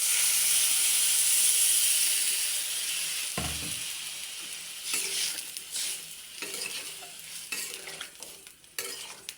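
Water is poured into a pan of frying soybean chunks and potatoes and sets off a loud, steamy hiss. It drops sharply, then gives way to quieter sizzling broken by scraping stir strokes.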